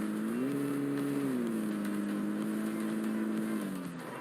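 A vehicle engine in a battle royale shooter game drones steadily at mid volume, its pitch stepping up briefly and then settling before easing off at the end.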